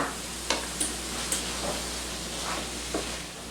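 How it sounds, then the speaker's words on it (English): A rice and cheese filling for stuffed peppers is stirred in a pan over gentle heat. Soft spoon scrapes and clinks sound over a faint, steady sizzle, all quiet and close. "We'll stir this in until the cheese is melted"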